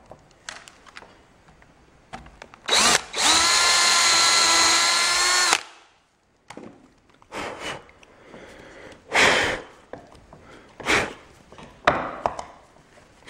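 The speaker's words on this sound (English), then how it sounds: "I'll drill this out at the size of the threads" A power drill whines loudly and steadily for a few seconds drilling through metal, then stops; short bursts of handling noise and quieter clatter follow.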